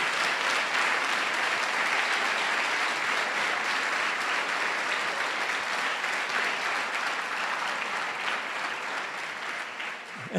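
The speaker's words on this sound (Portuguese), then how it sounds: "Vamos aplaudir o nosso Deus que tem uma igreja que não é de hoje" A church congregation at a 40th anniversary celebration in Porto Alegre applauds in praise of God, a long, loud, sustained wall of clapping that fades slightly near the end.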